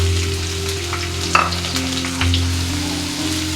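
Onion and tomato frying for kadalekalu kurma, a steady close sizzle and crackle in the pan with a brief stirring clatter partway through.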